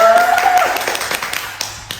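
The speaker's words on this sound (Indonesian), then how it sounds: "Tepuk tangan dulu untuk teman-teman." A small group of podcast participants at a community health centre in Surabaya gives a short round of applause: scattered, close hand claps that thin out and fade over a couple of seconds.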